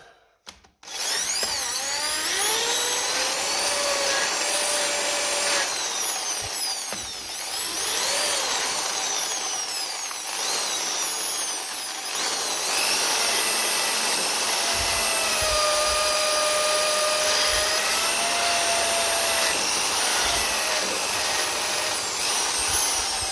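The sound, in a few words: drill with wire brush cleaning tractor battery earth lead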